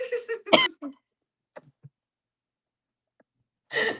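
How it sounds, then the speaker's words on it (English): Several sharp coughs burst out close to the microphone in a quiet room, followed by faint throat noises and another loud cough at the end. "Coughing."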